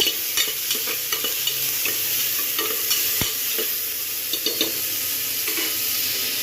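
Chopped vegetables for vegetable brinji rice are stirred and fried in a pan, a continuous close sizzle broken by repeated scraping strokes of a spoon against the metal.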